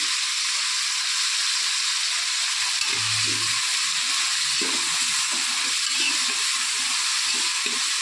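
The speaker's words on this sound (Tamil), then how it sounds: "வெங்காயம் எந்த அளவுக்கு பொன் பொன்னிறமாக வணங்குதோ அப்போ தான் பிரியாணி டேஸ்ட்டாக இருக்கும்" Sliced onions for chicken biryani fry to golden brown in a pan of oil, giving a constant loud sizzling hiss with intermittent low scraping and knocking as they are stirred.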